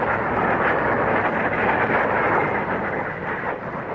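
An English Electric Lightning jet fighter roars past with reheat lit, a loud, dense, continuous rumbling blast that swells and slowly fades over several seconds, with no talk.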